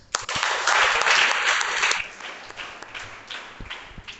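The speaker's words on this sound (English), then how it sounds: "So let's clap for them." A classroom audience of students bursts into applause for about two seconds, then it thins out to a few scattered claps.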